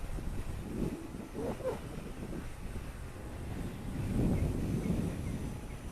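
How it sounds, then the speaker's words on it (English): Wind buffets the microphone in a low, steady rumble with gusty swells while flying a small RC model plane outdoors, fairly faint and with no one speaking. "Whoa, windy."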